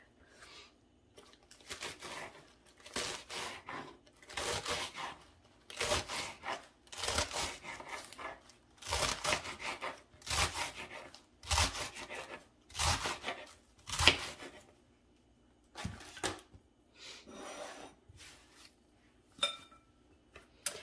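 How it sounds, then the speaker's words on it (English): A knife finely chops hearts of romaine lettuce, making a steady run of crisp, rhythmic cuts. Each cut is a short, dull thump on the board, with brief pauses between strokes. "we're gonna just kind of finely chop these up"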